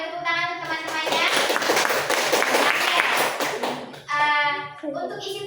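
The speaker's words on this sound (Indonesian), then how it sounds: "Boleh tepuk tangan untuk teman-temannya" Classmates in a school classroom break into lively, brisk hand clapping that lasts a few seconds, with children's voices before and after the applause.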